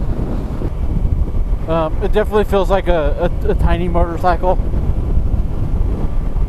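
Wind buffets a rider on a Yamaha R3 motorcycle, a steady, close, broadband roar that runs the whole way through while someone talks over it.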